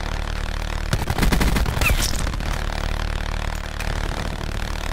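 An automated sentry gun in a shooter video game keeps up steady rapid fire, a dense, continuous rattle heard up close over a low mechanical hum, with no talking.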